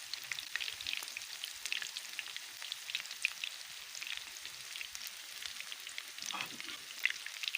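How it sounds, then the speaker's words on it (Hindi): Chicken wings fry in a pan over low heat with a steady, soft sizzle full of fine crackles and pops, continuous throughout and fairly quiet. "ये हल्की आंच पे फ्राई करने हैं।"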